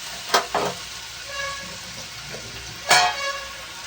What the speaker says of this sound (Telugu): ఉల్లిపాయలు అయితే ఫ్రై అయిపోయినాయండి